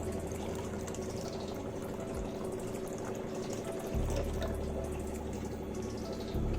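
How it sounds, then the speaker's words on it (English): Water poured into a pani puri mixture, a continuous steady trickle and splash with a low hum beneath, fairly quiet and alone without speech. "I'm adding water."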